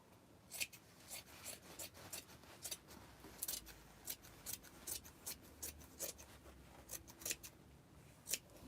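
Repeated crisp snips of scissors cutting through felt, irregular in rhythm, close and quiet, with no talking.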